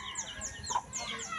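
Chickens clucking in short repeated calls, fairly close, with a busy background of other birds.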